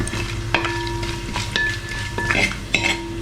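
Coconut pieces roast in ghee in a pan while a metal spoon stirs them. Soft sizzling runs underneath, broken by a string of distinct scraping clinks at an uneven, unhurried pace.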